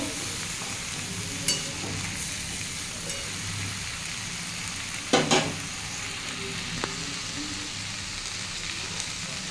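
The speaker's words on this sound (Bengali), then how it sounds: "দিয়ে বন্ধুরা একটু ভালো করে আমি কষে নেব" Fish head with katoya stems and salt sautés in a pan with a constant, close crackling sizzle, broken by a few clanks and scrapes of a spatula stirring the mixture.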